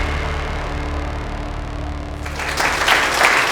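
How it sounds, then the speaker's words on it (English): Inside a moving electric touring car, a steady engine and road hum with a low tonal drone gives way after about two seconds to a short burst of close hand clapping from within the cabin. "I'm applauding you, the passenger."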